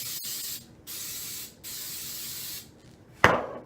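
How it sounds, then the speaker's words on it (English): Non-stick coconut cooking spray misted onto a tortilla in bursts, two short sprays then a longer steady hiss, close and clear, followed by a sharp clack near the end. "I'm going to go ahead and spray the other side."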